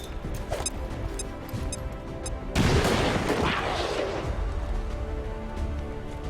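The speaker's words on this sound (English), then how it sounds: "Grenade out." A grenade goes off in XCOM 2, a sudden heavy blast followed by a rumbling, crackling decay that fades slowly, preceded by light ticking game sounds.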